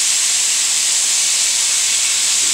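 Steak searing in a skillet with butter and oil left over from cooking vegetables, a steady bright hiss that holds evenly throughout with no talking.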